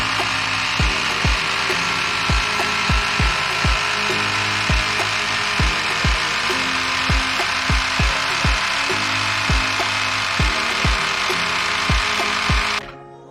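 A portable electric tire inflator pumps up a gravel bike tire, making a steady loud motor whir with a regular rhythmic knocking pulse throughout, close by, stopping abruptly at the end.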